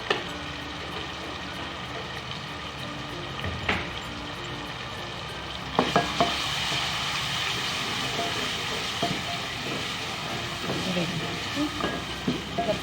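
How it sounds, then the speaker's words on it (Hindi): Spices with turmeric are stirred and fried in a pan for aloo palak sabzi, a steady sizzling hiss with occasional clinks of a utensil, fairly quiet and close. "इन सबको मिक्स करेंगे अच्छे से।"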